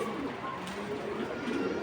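A female racing pigeon coos softly in low, rolling tones against a steady background hiss.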